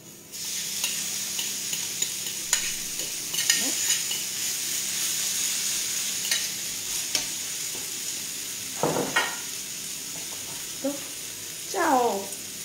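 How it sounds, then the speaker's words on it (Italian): Garlic sizzling in hot oil in a home kitchen pan, a steady broadband hiss with stirring scrapes, then potatoes added; someone talks over it throughout. "Andiamo a soffriggere il nostro olio e poi dopo toglieremo."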